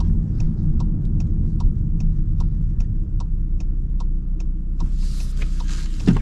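A 2026 Volkswagen GLI with a manual gearbox cruises with a low, steady engine and road rumble, punctuated by faint regular ticking like a turn signal, with no one talking.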